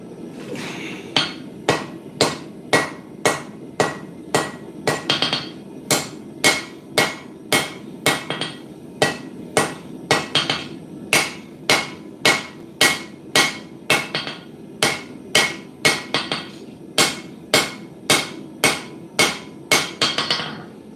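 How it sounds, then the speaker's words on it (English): A hammer strikes hot steel while forging an integral sabre blade, a long run of loud, evenly spaced ringing blows with brief pauses between bursts, close by and with no talk. "It is the mountain hammer indeed, Wayne."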